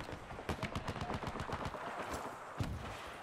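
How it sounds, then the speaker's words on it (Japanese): Rapid bursts of gunfire from a video-game sniper fight, a quick run of sharp cracks in close succession, loud and near, with a few more shots trailing off. "地方八方からスナイパーに撃たれてるから。"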